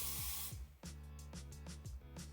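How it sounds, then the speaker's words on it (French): Hairspray hisses from an aerosol can onto curled hair in one long close burst, followed by a gentler stretch of hiss with faint tonal sounds behind it. "je vais venir laquer pour que ça reste en bombe"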